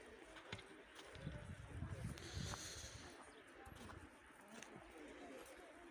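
Soft pigeon cooing outdoors on a cold, frosty day as the birds look for feed, low and intermittent, mixed with a steady background hum and faint distant voices.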